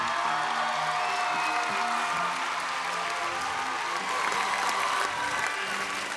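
A large audience at a children's song contest final applauds loudly and continuously, with some cheering and whoops mixed in, while music plays underneath.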